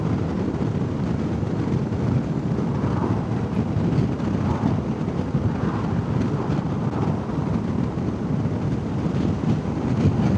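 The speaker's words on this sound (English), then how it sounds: "it's getting along just under 100 k's there, and the wind's whizzing by" Wind rushing past a motorcycle rider at close to 100 km/h, a dense, steady roar of buffeting air and low rumble that stays constant and loud throughout, with no talking.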